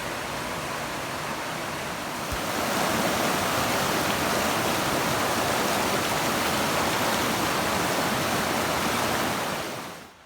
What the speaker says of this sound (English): Beautiful falls area.